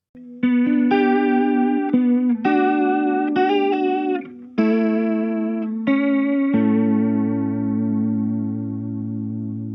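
Electric guitar chords played through an H2O Liquid Chorus & Echo pedal with the chorus engaged, strummed in a loud, shimmering rhythm and ending on a long ringing chord that slowly fades.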